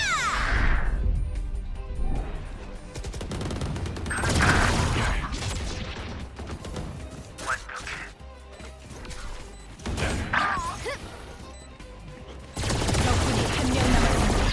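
Rapid bursts from an Odin machine gun in Valorant, with loud sustained fire and mechanical rattles over a busy layer of game effects, ending in a dense, steady stretch of shooting.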